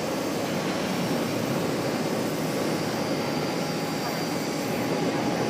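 Jet engines of an American Airlines Boeing 777 at Charlotte airport make a steady, loud broadband roar that holds unbroken throughout, with people talking faintly underneath.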